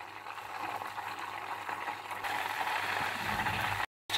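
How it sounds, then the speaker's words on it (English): Unsalted butter melting on a stovetop pan while being cooked down into ghee, giving a steady, moderately loud sizzling and bubbling hiss that grows a little denser partway through, then cuts out briefly near the end. "All your butter is melting."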